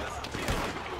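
Gunfire bursts in the online Western game Red Dead Redemption 2 Online, a couple of sharp shots within about a second, mixed under someone talking over the action.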